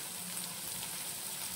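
Boiled green peas sautéing in a hot pan for a samosa filling, giving a steady, close sizzle and fry crackle with no talk.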